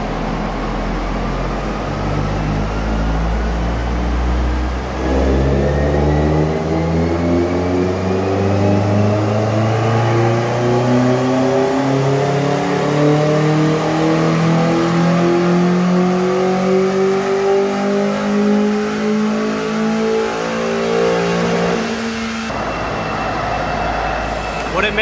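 A cheap Mazda Miata engine pulls hard through third gear on a chassis dyno, its loud drone climbing steadily in pitch for about seventeen seconds before cutting off near the end.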